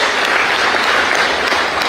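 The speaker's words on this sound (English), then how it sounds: "So I think that deserves a round of applause." An audience at a football awards ceremony breaks into steady, full applause, many hands clapping together continuously at close range with no voices on top.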